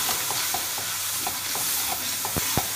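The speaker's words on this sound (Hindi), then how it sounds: "मसालों को भी एक मिनट दो मिनट तक भून लेते हैं।" Spices with turmeric and red chili fry in a pan, a steady sizzle broken by a few soft scraping stirs and two sharp knocks near the end, with no voices.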